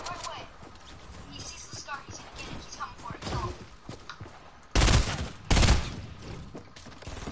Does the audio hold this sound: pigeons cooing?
no